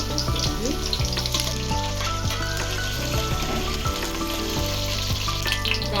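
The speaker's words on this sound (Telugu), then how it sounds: "ఆనియన్స్ బాగా వేగిపోయాయి." Onions fry in plenty of oil with fenugreek seeds and curry leaves for a Nellore fish curry, giving a steady, close crackling sizzle that runs throughout with tonal music playing underneath.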